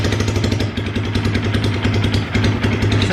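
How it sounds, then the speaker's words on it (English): 2022 Honda Grom motorcycle running on an open header with no muffler, a steady, close, loud, rapid popping engine drone that holds an even pulse throughout, with no voices over it. "let's see what this thing sounds like with an open header."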